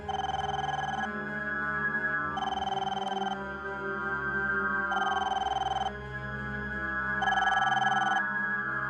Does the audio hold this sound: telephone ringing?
yes